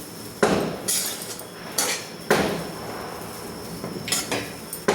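Roasted semolina with grated coconut is stirred in a pan, a spoon scraping and knocking against the metal in a few sharp, clattering strikes separated by quieter scraping.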